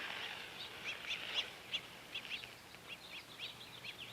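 Small birds chirp and twitter around a backyard feeding tray, a string of quick, high calls repeating in loose bursts, fairly faint against a soft steady hiss.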